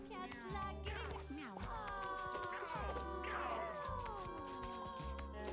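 Cartoonish cat meows in the Mewgenics video game, several rising and falling mews in quick succession over a steady low game music bed, moderately loud and close.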